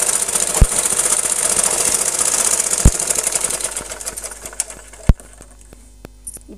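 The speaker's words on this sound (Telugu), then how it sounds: "ఇప్పుడైతే స్టిచ్ అయితే వేస్తున్నా." A sewing machine stitching a long frock runs in a steady mechanical whir for several seconds, broken by a few sharp clicks, then slows and stops with scattered taps near the end.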